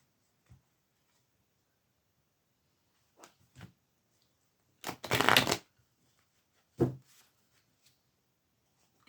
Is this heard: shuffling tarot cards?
yes